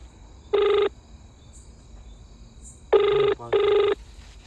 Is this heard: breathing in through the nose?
no